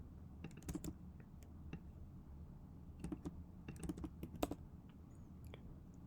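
Computer keyboard typing in scattered bursts of quick clicks, close and fairly quiet, with pauses between runs of keystrokes and no voices.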